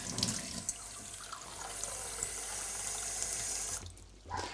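Cold water runs steadily from a kitchen tap into a pot for making porridge, a continuous close rushing stream that cuts off near the end.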